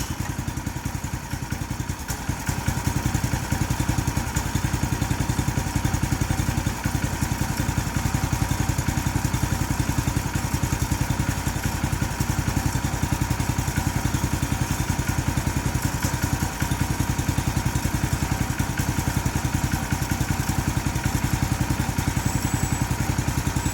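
A Predator small engine on a repowered log splitter runs cold, needing choke, with a steady loud mid-pitched chugging drone and mechanical clatter throughout, close by and unbroken.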